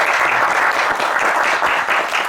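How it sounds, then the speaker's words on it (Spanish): Dense, steady applause from an audience welcoming a university lecturer to a talk on modern science, medieval thought and the Renaissance, loud and close throughout with no pauses. "por costumbre aquí siempre recibimos a nuestros conferencistas con un aplauso"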